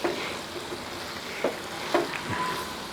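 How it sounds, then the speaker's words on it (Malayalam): Chicken perattu sizzles gently in a pan over a low flame, with a few soft scraping stirs breaking through the steady frying hiss. "ആ ചെറിയ തീയിൽ ഇളക്കി കൊടുക്കുക"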